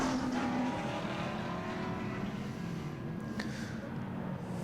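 Historic race cars in the Moss Trophy at Goodwood give a steady, dense engine roar throughout, sounding somewhat distant with a continuous drone and no clear individual pass-by.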